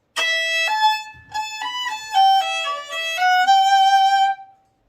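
A solo fiddle plays the B part of the tune Squirrel Hunters, a run of clear sustained bowed notes with shifting pitches, close and steady, with no talking over it.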